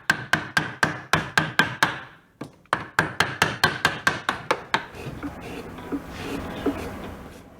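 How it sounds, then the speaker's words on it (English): Sharp, evenly spaced knocks of a tool striking a block of wood during carving of a Spanish polychrome sculpture. The blows come in rapid runs with brief pauses, then give way to softer scraping. "the sculptor would move along to using slightly finer tools, for example, chisels of various sizes"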